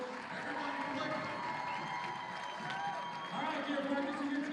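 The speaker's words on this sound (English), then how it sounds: "let's give all the alumni a round of applause" A crowd applauds and cheers for the alumni at a Pasadena ISD alumni game, a dense, steady wash of clapping and voices lasting throughout, with some talk mixed in.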